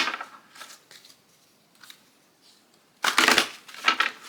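A small, thin tarot deck is shuffled in light, papery riffles that end in a loud, crackling burst near the close, with no voices.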